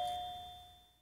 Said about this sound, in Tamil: காலிங் பெல் அடிக்குது பாருடா, கதவு தரடா.